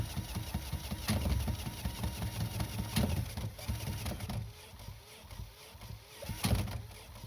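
An old army generator's two-stroke engine being cranked by a battery drill, with repeated whirring crank bursts and rough intermittent firing that does not catch, close up.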